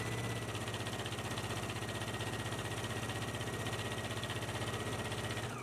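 A sewing machine stitches a 5/8-inch seam on a shawl collar, giving off a steady, fast mechanical whir with an even pulsing rhythm that runs unbroken and close for the whole stretch, with no voices.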